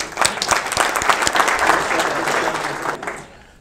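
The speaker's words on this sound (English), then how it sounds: "Give Tim a round of applause." A burst of enthusiastic clapping from a seminar audience, swelling quickly and fading out after a few seconds.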